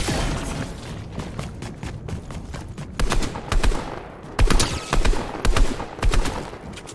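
Gunfire in the Fortnite video game, with several sharp bursts of shots clustered in the second half, loud and close over a steady background of game ambience.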